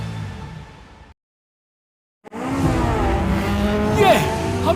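A racing car drifting at speed, with loud engine roar and squealing tires close by after a brief dropout to silence, and an excited voice talking over it.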